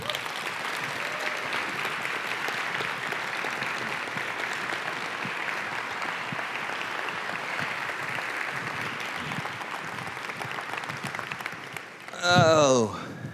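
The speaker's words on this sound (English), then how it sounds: "Give a round of applause to the panelists as they make their way to the stage." Audience applause as panelists walk to the stage at a justice-themed event, a steady even wash of clapping lasting over ten seconds, then a brief louder voice near the end.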